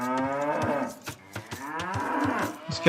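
Cattle in a real-time strategy game moo repeatedly and loudly, the drawn-out calls overlapping with short clicks and taps between them.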